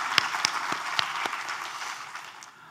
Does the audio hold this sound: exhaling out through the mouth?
no